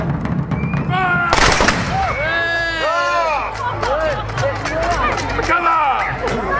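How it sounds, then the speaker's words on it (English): A single loud, sharp blast from a musket volley fired together by reenactors at an armed forces weekend in Felixstowe, followed by crowd murmur and a spoken voice carrying on over outdoor background noise. "That is a salve when all the musketeers fire together."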